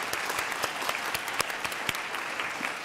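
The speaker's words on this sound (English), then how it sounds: "Let's please give a round of applause for them." Audience at the Louisiana Book Festival gives a round of applause, steady dense clapping with a few sharper claps standing out, sustained for the full stretch.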